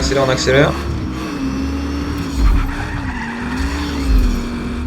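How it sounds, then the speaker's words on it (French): A car in the video game Just Cause 3 skids with a long tire squeal over a revving engine; a voice is heard briefly at the start, and the engine swells twice more. "Petit dérapage."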